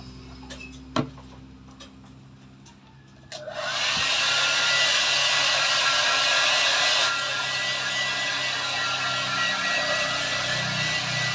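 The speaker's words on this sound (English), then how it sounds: "this is the hair drying station" After some faint clicks and handling noise, a hair dryer switches on and blows with a loud, steady whirring roar that continues to the end.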